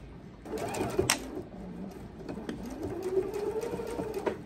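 Sewing machine running slowly while stitching binding onto a thick quilt, a soft steady whir with faint clicks, close by, and a voice speaking over it.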